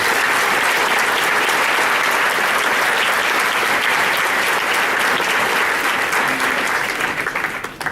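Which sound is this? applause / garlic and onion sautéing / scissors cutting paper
applause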